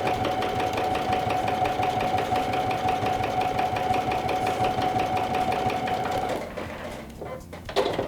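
A domestic sewing machine stitches glitter vinyl at a steady fast hum with a rapid needle rhythm, close and continuous for about six seconds before it stops and a few handling clicks and rustles follow.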